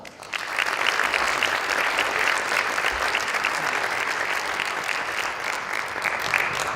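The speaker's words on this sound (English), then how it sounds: "If you would please give them a round of applause." An audience applauds city and school officials at a community salute event, steady dense clapping filling the whole stretch at even volume with no voices on top.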